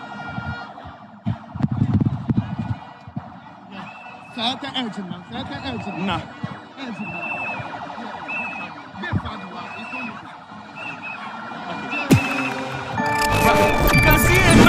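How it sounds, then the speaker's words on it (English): Vehicle sirens wailing through a crowded street during an election celebration in Akwatia, Ghana, with rising and falling tones, horns and alarms layered over crowd noise and talk, growing louder and harsher near the end. "So you can see a number of vehicles with sirens."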